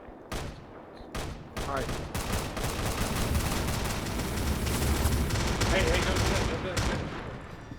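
Rapid video game gunfire crackles in dense bursts throughout, loud and continuous, with people talking over it.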